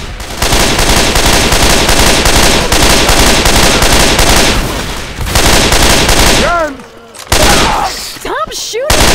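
Rapid automatic gunfire in the Left 4 Dead 2 demo on Expert difficulty, dense loud bursts firing almost continuously, then breaking into a few separate shots near the end, with a player's voice shouting over it.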